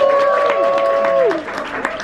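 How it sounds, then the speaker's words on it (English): An audience claps through the whole stretch, a dense patter of applause at an indoor event while a speaker's voice carries over it. "Let's give him a round of applause."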